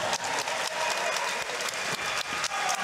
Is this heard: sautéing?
no